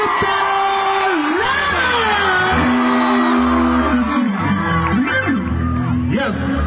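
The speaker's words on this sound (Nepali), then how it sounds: "सबैजना जोरदार ताली आवाज र उठेर स्वागत गर्न मलाई रिक्वेस्ट गर्न चाहन्छु" A concert crowd in Pokhara cheers and whoops loudly for a singer's entrance, a dense continuous roar of voices with shouts rising and falling, while an amplified announcer speaks over the noise.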